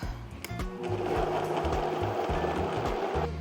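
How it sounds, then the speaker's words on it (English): A kitchen blender purees cooked potatoes for vegetable soup, its motor whirring loud and close with a steady broadband roar and a low, rhythmic chugging pulse throughout. "I'm gonna blend this up"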